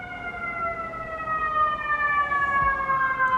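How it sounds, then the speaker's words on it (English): A siren wails continuously in the distance, its tone slowly sliding lower, over steady New York City street noise. "Hold for siren."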